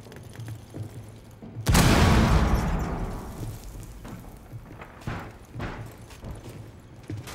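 A grenade in Rainbow Six Siege detonates with a loud, close boom that decays into a rumbling tail over a few seconds, followed by faint in-game clatter and background noise.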